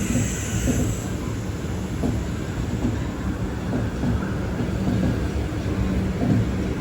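Kochuveli–Korba Express train running along the rails in Kerala, a steady, continuous rumble of wheels and carriages with faint rhythmic clatter, heard from aboard the sleeper coach and unbroken throughout.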